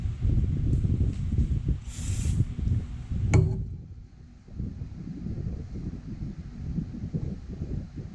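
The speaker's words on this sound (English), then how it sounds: "the fan sends the brake parts cleaner flying" Brake parts cleaner is sprayed from an aerosol can onto the brakes of an Acura Integra GS-R during a brake job, a short hissing burst heard over steady fan or wind rumble, with a sharp click partway through.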